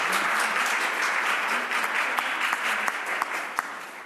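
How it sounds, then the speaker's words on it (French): Audience applause at a French roundtable on an international excellence programme: dense, steady clapping from a crowd, loud and close, with a few sharper individual claps standing out as it begins to fade near the end. "Je pense qu'on peut les applaudir."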